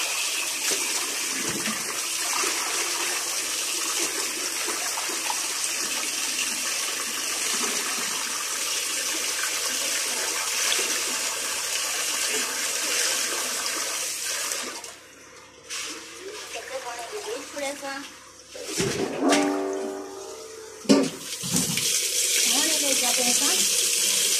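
A tap runs steadily for about fifteen seconds, then stops; a gushing, splashing burst of washing follows, and the flow starts again. A person speaks over the running water.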